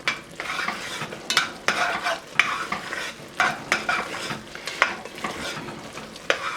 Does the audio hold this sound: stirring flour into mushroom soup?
yes